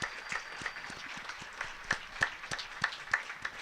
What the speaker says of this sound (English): They are clapping as Colby is being taken off the field right